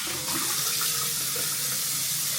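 Running tap water pours steadily into a sink while cleanser is rinsed off a face, a continuous close splashing hiss with no talk.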